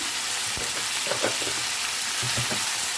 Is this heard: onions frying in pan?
yes